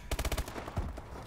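Gunfire in the video game Call of Duty: Advanced Warfare, a fast burst of about six close, punchy shots followed by scattered further shots, with no talk over it.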